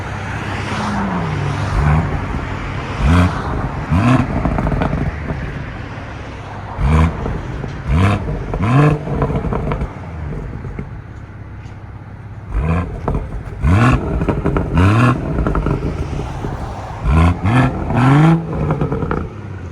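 Exhaust of a Sunfire yellow 2018 BMW M240i convertible with a 3.0L inline-six and resonator delete while backing up: loud, close, repeated rising and falling revs over a deep steady idle rumble.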